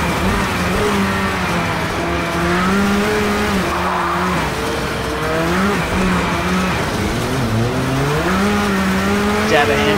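A race car in Project CARS 2 drones steadily near and loud, its engine pitch rising and falling through gear changes while the tires squeal and skid through corners.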